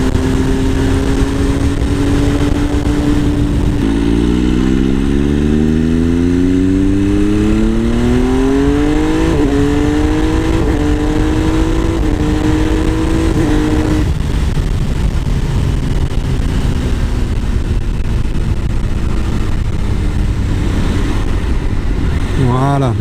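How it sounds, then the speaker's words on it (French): A motorcycle being ridden on the road, its engine revving up through rising gear pulls and then settling, loud and close with steady wind noise throughout. "Je vais m'arrêter dans quelques minutes pour vous faire une petite présentation de la moto."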